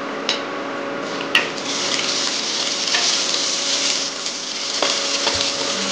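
Cardamom, cumin and dried chillies fry in a pan with a steady bright sizzle, broken by a few small pops and clicks, close and continuous.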